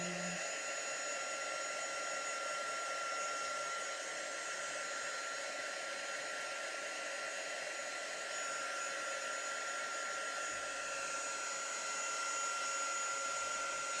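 A heat tool blows loudly and continuously over a craft project, a steady whooshing roar with a faint high whine that holds unchanged from start to finish, with no talking.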